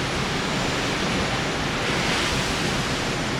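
Storm Arwen wind and rough sea batter a cruise ship balcony, a loud, unbroken rush of broadband noise with wind buffeting the microphone, steady from start to end without talk.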